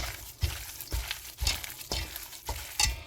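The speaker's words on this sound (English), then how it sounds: "Get a glove and start squishing it together" A gloved hand squishes and mashes warm potatoes, cheese and onions together for pierogi filling, giving wet, squelchy pulses that repeat in a steady rhythm about every half second, close and fairly quiet.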